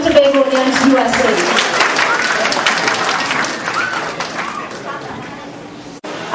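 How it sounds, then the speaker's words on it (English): A crowd at a Trinidad and Tobago Republic Day celebration applauds the Trinidadians and Tobagonians, U.S.A. organization, dense sustained clapping that swells and then slowly thins over several seconds, with a short dropout near the end. "please, a round of applause to the Trinidadians and Tobagonians, U.S.A."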